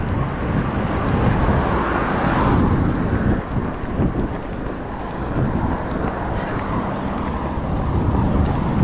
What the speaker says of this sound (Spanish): Pues hay un montón de coches.